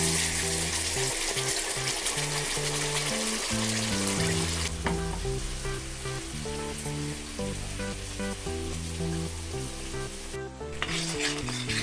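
Steady, close sizzling of ground spice paste for fish curry frying in hot oil, with a brief scrape of a utensil midway and no voices.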